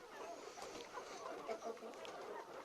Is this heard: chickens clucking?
yes